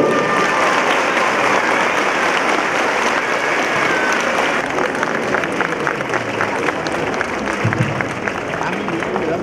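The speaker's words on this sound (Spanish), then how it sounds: "¡Fuerte el aplauso!" A crowd at a public aid-distribution event breaks into loud, sustained applause, many hands clapping steadily with crowd murmur and voices mixed in beneath it.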